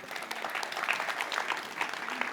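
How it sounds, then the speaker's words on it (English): An audience at a conference session applauds together, a dense, steady patter of many hands clapping at moderate volume for a couple of seconds. "A round of applause."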